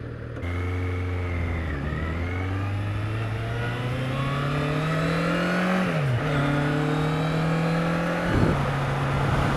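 Kawasaki Z800 motorcycle under way, its engine droning loudly and steadily, pitch climbing through the gears with brief dips at each shift, heard up close without talk.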